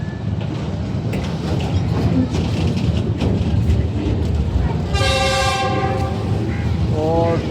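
The Khurram Express passes Badamibagh station and sounds a loud horn blast midway, over the steady rumble of rolling railcars, with a shorter second toot near the end.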